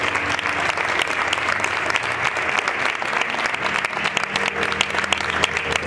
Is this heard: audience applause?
yes